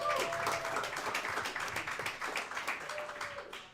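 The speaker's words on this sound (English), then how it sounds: "give a round of applause for the BVille Bees boys basketball program right now" A round of applause for a high school boys basketball program at a pizza restaurant gathering, a smaller group clapping with rhythmic, distinct claps at modest volume.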